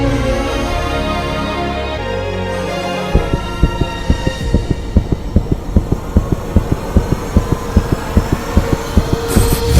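A fast heartbeat sound effect starts after a low rumble, with rapid, regular thumps at about three per second that repeat evenly to the end.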